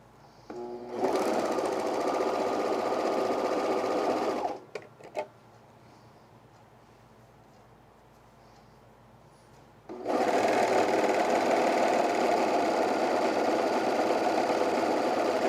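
Sewing machine stitching the side seams of a men's fleece quarter-zip pullover, two loud steady runs of several seconds each with a quiet pause between them.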